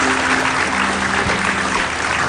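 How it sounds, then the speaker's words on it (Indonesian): A studio audience on an Indonesian talk show claps for a Moto2 racer guest, an even, sustained wash of clapping with a faint low hum beneath. "kasih tepuk tangan dulu"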